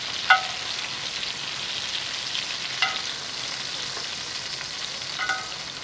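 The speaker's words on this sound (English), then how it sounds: "The duck breasts are still sizzling." Duck breasts sizzle steadily in a hot pan, a constant crackling hiss with a few brief clinks, close up and with no one talking.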